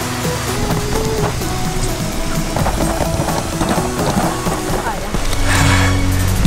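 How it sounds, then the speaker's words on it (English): Steady rain falls outdoors at a resort on Fraser Island, a dense constant hiss with pattering drops that grows slightly heavier toward the end, with no talking. "It is raining."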